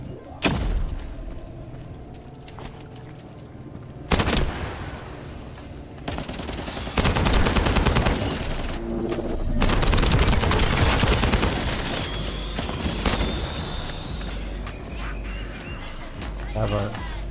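Gunshots fire in bursts alongside heavy thumps, loud and close, with voices talking over and between the shots.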